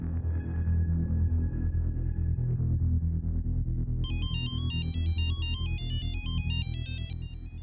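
A phone ringtone plays: a low electronic pulse, then a bright, repeating high melodic tone pattern over a deep rumbling background.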